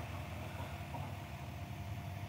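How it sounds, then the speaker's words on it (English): A 2021 GMC Sierra 2500HD Denali's 6.6-litre Duramax diesel idles with a low, steady rumble, faint and even throughout with no revving. "Not sure if the camera's actually gonna be picking up all the engine noise."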